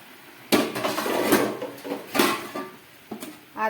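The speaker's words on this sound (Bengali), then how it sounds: "এইবারে এই ফুটন্ত ঝোলের মধ্যে আমি সমস্ত পনিরগুলো দিয়ে দিচ্ছি।" Paneer pieces tipped into a pan of boiling gravy with a few sharp clatters of a spoon against metal cookware, close and moderately loud, with quieter scraping between.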